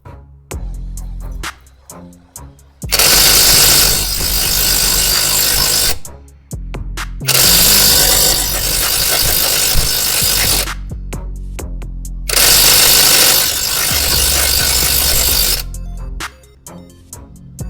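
A cheap cordless brushless impact wrench hammers at a stuck wheel nut in three sustained bursts of several seconds each, loud and close, with short pauses and quieter handling sounds between them.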